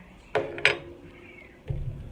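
A utensil clinks against a pan twice as marmalade sauce is stirred, followed by a softer scraping stir, close and fairly quiet.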